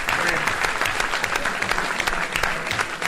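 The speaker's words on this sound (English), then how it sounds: "we want to give a big round of applause" An audience at a Wisconsin congressional Democratic primary debate in a union hall applauds, a loud, dense round of clapping with a few sharper claps and some cheering mixed in, filling the whole stretch.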